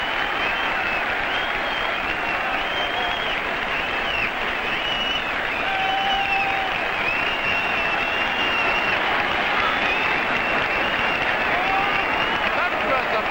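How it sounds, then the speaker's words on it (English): A large stadium crowd at Highbury roars and applauds after a goal in a 1962 England versus Luxembourg World Cup qualifier, a continuous dense wash of noise with a commentator talking over it. "Thunderous applause from this crowd at Highbury as Dimmer makes it 3-1 now for Luxembourg"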